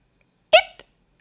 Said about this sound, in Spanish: Rugg no pudo evitar el hipo.